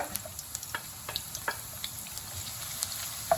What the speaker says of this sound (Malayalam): നമ്മുടെ എണ്ണ ചൂടായി കഴിഞ്ഞ് കഴിയുമ്പം നമ്മൾ വെളുത്തുള്ളി ഇട്ട് കൊടുക്കുവാണ് വെളുത്തുള്ളി നമ്മുടെ ഇഞ്ചി പച്ചമുളക്